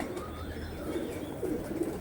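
Soft, low coos from Kalshira pigeons repeat a few times against a quiet background hum, faint and nearby.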